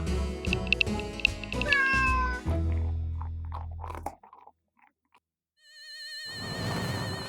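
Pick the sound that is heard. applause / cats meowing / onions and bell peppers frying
cats meowing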